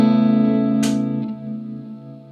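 A guitar chord is held by a Fractal FM3 freeze/hold preset, a dense sustained tone with a brief pick scrape in the middle and a gentle pumping swell as it fades slightly, with no talk.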